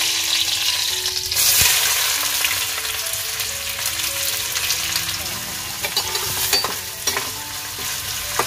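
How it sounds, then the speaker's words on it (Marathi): Tempering sizzles in hot oil in a kadhai as prawn sukka is cooked, steady frying hiss with spoon stirs and clinks, and faint voices in the background. "फोडणी द्यायला घेतली"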